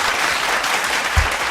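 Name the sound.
audience applause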